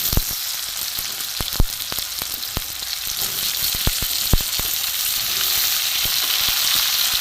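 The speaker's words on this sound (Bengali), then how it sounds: "পেঁয়াজ টমেটো একটু ভাজা ভাজা হয়েছে, আমি এতে দিয়ে দেবো আলু।" Onion, tomato and potato fry in a pan with a steady, dense sizzle, broken by sharp clicks and pops spread irregularly throughout; no voices.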